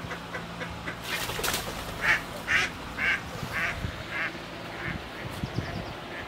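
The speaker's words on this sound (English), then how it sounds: "Смотри, вот туда, там уточки. Видишь, уточки плавают." Ducks on a park pond quack in a string of short, separate calls at moderate distance, spaced roughly half a second apart over soft outdoor background noise, with no one speaking.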